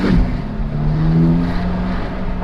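A 712hp Aston Martin supercar pulls away on wet roads, its engine note rising in a loud, steady drone with tyre and spray noise, close to the microphone.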